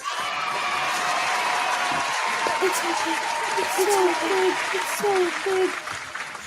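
Audience applause and cheering for a DJ at a DJ mixshow competition, a dense sustained wash of clapping with whoops while a voice talks over it and a melodic tone sounds in the background.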